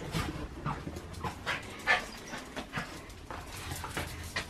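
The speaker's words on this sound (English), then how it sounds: "Some random dogs turned up at my front door." Dogs pant rapidly and let out occasional soft whimpers just outside a front door, close and fairly quiet, with rhythmic breathy puffs and no talking.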